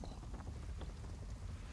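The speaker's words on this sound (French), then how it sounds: "Le vent souffle fort, évidemment." Strong wind blows across Pandora in the Avatar video game, a soft, steady broadband rush with faint gusty fluctuations and no voices.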